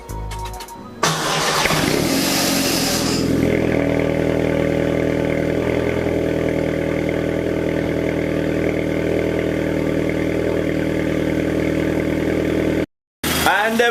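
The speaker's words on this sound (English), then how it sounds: "You guys are about to be the first people to hear this car start on a cold start" A Volkswagen GTI engine, unstarted for about six months, cranks briefly on a cold start, then catches and settles into a steady, loud idle with a rattly rumble that runs on continuously.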